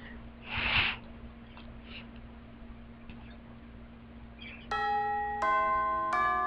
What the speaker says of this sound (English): I love these bells.